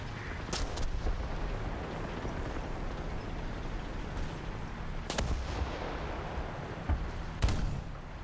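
Tank cannon shots boom in War Thunder as the KV-1E comes under fire, with a handful of sharp blasts spaced seconds apart over a low rumbling background.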